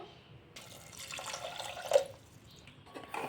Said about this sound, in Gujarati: હવે આપણે પાણી એડ કરશું 1 કપ જેટલું